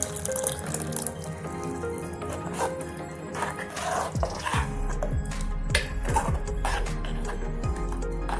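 Water is poured into a pot of cooked urad dal, giving splashing and trickling sounds with scattered clinks and drips, close and moderate in level, no voices.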